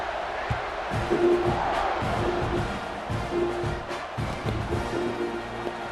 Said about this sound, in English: This crowd's going to get loud when their defense comes on the field.